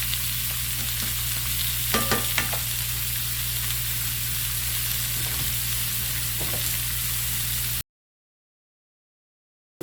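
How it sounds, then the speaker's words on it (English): Blackened shrimp fry in a hot pan with a steady, close sizzle, broken by a few brief stirring scrapes and clinks near the two-second mark before the sound cuts off abruptly. "Shrimp cook very, very fast. It says only a couple minutes on each side."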